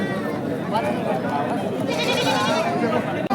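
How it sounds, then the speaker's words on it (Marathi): Osmanabadi goats bleat at a busy goat market, several animals calling over one another amid crowd chatter and nearby talk. "ह्या शेळ्या आलेल्या आहेत. आपल्या शेळ्या जातीच्या उस्मानाबादी शेळ्या आहेत"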